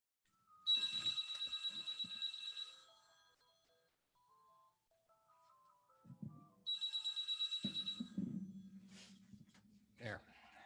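A landline telephone ringer trills in two electronic bursts of about two seconds each, separated by a pause, followed by a few handling clunks as the phone is dealt with.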